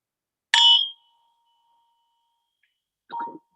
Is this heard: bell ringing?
yes